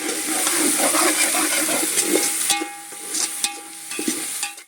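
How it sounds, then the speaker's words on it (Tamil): Ginger garlic paste fries in oil in a pan for chicken biryani, giving a close, steady bubbling sizzle that thins midway into lighter crackling broken by stirring scrapes and clicks. "இஞ்சி பூண்டு பேஸ்ட் பார்த்திங்கன்னா நல்லா எண்ணெயில் வணங்கி இந்த மாதிரி எண்ணெய் தனியாக பிரிஞ்சு வரணும்"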